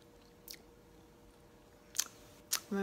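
Raw bitter bolete mushroom being bitten and chewed, with a few sharp, close crunches spread apart, a quiet pause before a pair of bites near the end.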